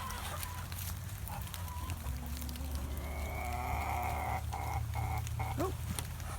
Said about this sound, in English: So into the wood, ducks, and the chickens.